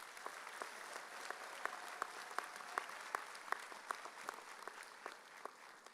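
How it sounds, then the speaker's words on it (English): Sustained applause from a seated commencement audience at a college of business graduation, steady dense clapping with sharper individual claps standing out, moderately distant and without talk. "Let's give them a round of applause for that."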